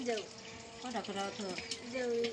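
Fresh water poured while cooking in a village kitchen, a steady running and splashing stream heard under nearby talking voices.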